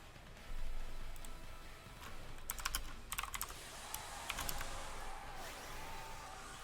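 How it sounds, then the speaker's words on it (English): Typing on a computer keyboard gives irregular bursts of quick key clicks and a few louder keystrokes over a steady background hiss, close and moderately quiet, during a Pokémon Sword and Shield online doubles battle. "Sorry I'm typing a lot of stuff."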